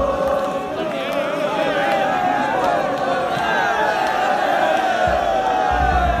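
A large football crowd at a match roars and chants together, a dense, continuous wall of voices with rising and falling sung tones throughout.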